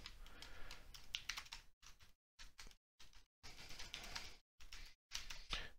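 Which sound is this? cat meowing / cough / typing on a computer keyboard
typing on a computer keyboard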